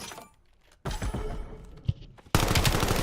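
Submachine-gun fire in a Call of Duty esports match: short, sharp bursts of close shots separated by quieter gaps, ending in a loud, sustained volley.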